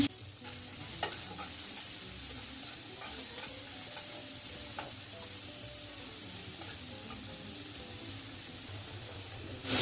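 Chopped onion, green chili and cumin fry in a little oil, giving a continuous hissing sizzle with occasional faint clicks of stirring, heard close and alone without talk.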